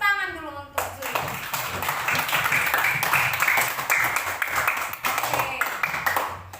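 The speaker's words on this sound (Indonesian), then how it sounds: "tepuk tangan dulu untuk Julio" Classroom applause for a pupil named Julio: after a woman's short spoken prompt, a group of children claps steadily and fairly close for several seconds, with some voices mixed in.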